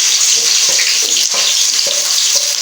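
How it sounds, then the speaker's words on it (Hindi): Chopped onions tipped into lightly heated cooking oil in a pot, for a capsicum and potato curry, give a loud, steady sizzle throughout, with a few soft clinks of stirring. "तो अभी हम इसमें जो प्याज जो काटा हुआ था इसको डाल देते"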